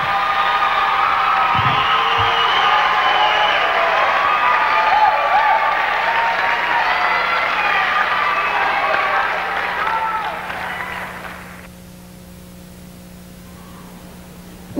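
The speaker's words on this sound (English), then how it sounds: "another round of applause for all of our top 10 finalists" An audience at the 2006 Miss California pageant bursts into loud, sustained applause with scattered cheers and whoops, the clapping holding steady for about eleven seconds before dying away to a low room hum.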